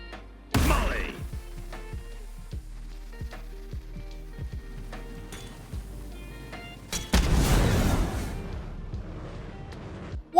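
Brimstone's incendiary Molly lands on Breeze in the Valorant video game: a sharp burst as it hits, then a sizzling, crackling burn with small ticks, followed by a second loud eruption of fire later.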